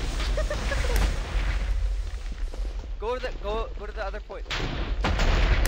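Explosions from TNT blasts in the Minecraft video game boom through steadily over a low rumble, with bursts of player chatter and excited voices laid over them partway through.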